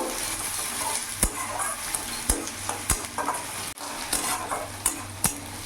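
Two large onions fry in hot oil over a medium gas flame, a steady close sizzle broken by sharp scrapes and knocks of a stirring utensil against the pan.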